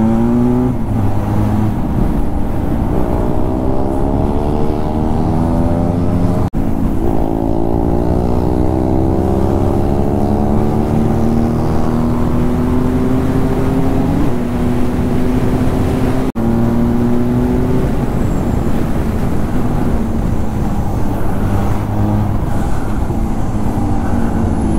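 Motorcycle engine pulling hard at full throttle through traffic, a steady loud drone with rising and falling pitch sweeps as it revs and shifts, continuous for the whole stretch with no talking over it.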